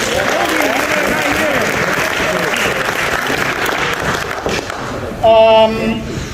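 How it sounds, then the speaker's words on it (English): Applause at a varsity basketball ceremony, a crowd clapping steadily for several seconds with voices mixed in, fading out near the end before a short tone sounds. "let's give a round of applause for Toby."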